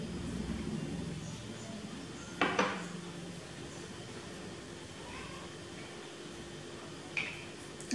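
Ingredients, including carom seeds and sesame seeds, being mixed in a bowl for Champakali snack dough, with a couple of clear clinks of a spoon against the dish over quiet background hiss.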